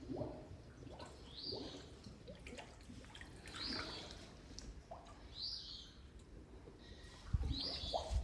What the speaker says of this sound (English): You can still hear the bird in the background.